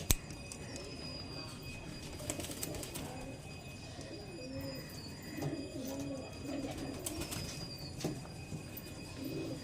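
Pigeons coo softly and repeatedly in low, rounded calls against a faint background hum, with occasional sharper bird chirps.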